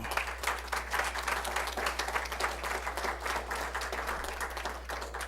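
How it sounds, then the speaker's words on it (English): Sustained audience applause at a board of education meeting, a dense steady wash of many hands clapping evenly throughout with a low constant hum beneath. "give our administrators a big round of applause"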